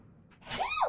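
A single sharp sneeze bursts out close and loud after a brief faint intake, with no speech over it, during a casual show discussing Street Fighter 6.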